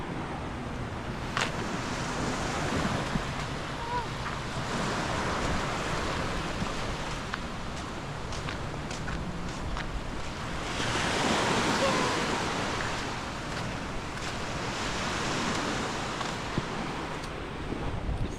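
Waves wash onto Natien Beach on Koh Samui, Thailand, as a steady hissing surf with one fuller swell near the middle, mixed with light wind rumble on the microphone and no clear talking.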